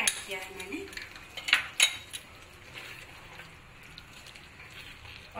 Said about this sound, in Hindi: अब इन सारी चीज़ों को मैं मिक्स कर देती हूँ।